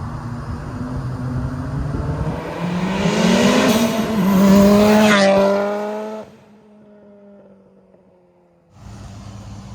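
A fully built Mitsubishi Evo accelerating hard past, its engine and exhaust rising to a loud, raspy peak, then dropping away to a distant drone before surging back near.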